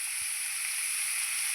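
Mild green chillies and curry leaves sizzling in hot oil in a pan, for noodles: a steady, close, bright frying hiss with one faint low knock near the start.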